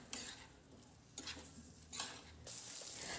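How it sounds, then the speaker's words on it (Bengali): Boiled potatoes being stir-fried with spices in a pan. Soft scraping strokes of a spatula come a few times over a faint, quiet sizzle. "এবার এই আলুটাকেও কিন্তু বেশ ভালো করে এই মশলার সাথে কষিয়ে নেব।"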